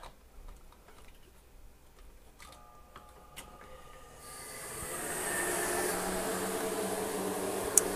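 A greenhouse fogger machine is plugged in and starts up, building after a few seconds into a loud, steady, close rushing hiss that runs unbroken to the end, with a faint clink near the close and no voices.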